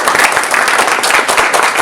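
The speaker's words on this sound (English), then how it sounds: "Let's clap for it." An audience at a higher-education talk claps steadily for a couple of seconds, a dense, even patter of many hands close by.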